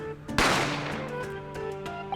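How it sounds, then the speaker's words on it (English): A single sharp gunshot sound effect from the courtroom adventure game The Great Ace Attorney Chronicles, a loud close bang that rings out and decays over a second against a soft tonal music bed, with no speech. "gunshot rang out as I hurried to the dining area to see what had happened"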